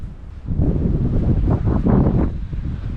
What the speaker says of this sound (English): at least the wind's dying down